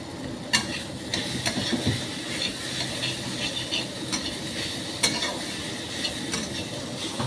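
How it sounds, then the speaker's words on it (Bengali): A spatula stirs and mashes soft amla chutney in a pan over the heat, making a steady close sizzle with soft wet scraping and a few sharper clicks of the spatula against the pan. "খুন্তি দিয়ে দিয়ে একটু ঘেটে ঘেটে দিচ্ছি"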